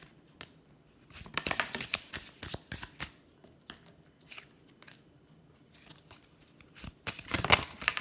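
Holographic card deck being shuffled, crisp riffling and flicking bursts in irregular clusters, loudest early and near the end, close and fairly quiet with no talk.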